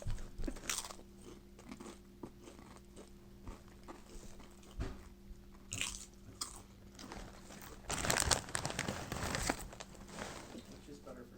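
Chips being eaten right up close to a microphone during a podcast, with repeated loud crunches and bites that come in bursts and grow heavier near the end, under and between bits of speech.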